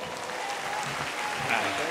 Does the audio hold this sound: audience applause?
yes